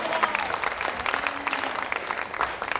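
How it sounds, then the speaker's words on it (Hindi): Audience applause at a Hindi kavi sammelan poetry gathering, a steady dense wash of clapping from a crowd filling the whole stretch at moderate loudness. "तालियां बजाओ, तालियां बजाओ, तालियां।"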